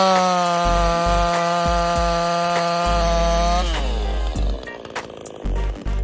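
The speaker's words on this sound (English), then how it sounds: "S205 is a reliable automatic tree cutting tool with a 46 cubic centimeter engine built for heavy-duty work" S205 automatic tree-cutting chainsaw machine with a 46cc engine, built for heavy-duty felling with an automatic slide: a loud, steady motor whine holds, then shifts pitch and turns rough and uneven as the cut bites, close up with no talk.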